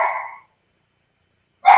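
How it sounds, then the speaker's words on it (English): A dog barking indoors: two short, loud barks separated by a second of silence, close to the listener. "why is he barking?"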